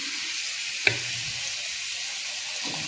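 An egg omelette fries in a hot pan with a steady, close sizzling hiss, broken by a single sharp clack near the start.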